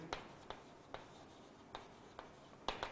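Chalk or marker strokes on a board during a physics lecture on measurement and vernier scales, a handful of sharp scratchy taps spaced irregularly, close and clear with no talk.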